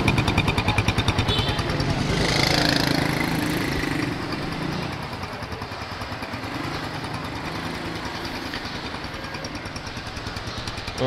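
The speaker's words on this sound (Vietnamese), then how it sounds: "Tiếng máy nó nổ mà còn như tiếng xe mới là anh em hiểu rồi" Kawasaki Boss 175cc motorcycle, an imported Thai-built model, running with a close, loud, rapid engine putter that swells briefly and then settles to a steady idle-like chug.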